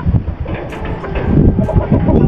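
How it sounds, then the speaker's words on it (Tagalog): Strong wind buffets the microphone outdoors, producing loud low rumbling gusts that rise and fall unevenly throughout. "malakas yung hangin at maingay"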